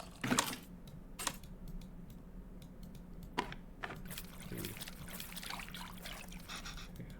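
In the Venba cooking game, water is poured over tamarind in a bowl to draw out its essence: soft trickling and splashing comes in a few short, quiet bursts, with light clicking between them.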